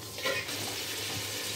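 Ginger paste and onion fry in a pan while being lightly stirred, making a soft, steady sizzle with a faint scrape near the start, quiet and close, with no voices.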